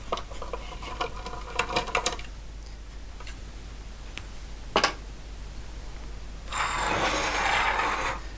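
Screws being undone to free the plastic cover of an HP 9120A printer under repair: a cluster of small metallic ticks and clicks early on, a couple of sharp isolated taps, then a short burst of scraping handling noise, all close and fairly quiet.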